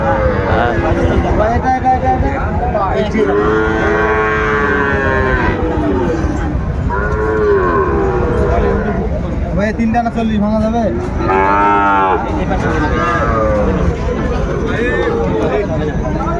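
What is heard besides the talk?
Sahiwal bull calves mooing at cattle market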